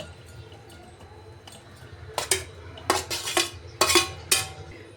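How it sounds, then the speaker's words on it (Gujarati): Watermelon pieces tumble into a mixer jar in a series of sharp, close clinks and clatters against the hard jar, several separate knocks in the latter half over a quiet kitchen background, with no talking. "હવે આપણે મિક્સર જાર લેશું અને જે તરબૂચના ટુકડા કરેલા છે ને તે મિક્સર જારમાં ઉમેરી દેશું."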